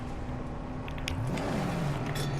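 Engine revving up in the Mad Max video game as a car gets a boost, a steady drone with a rising pitch sweep midway, fairly close and loud with no talking.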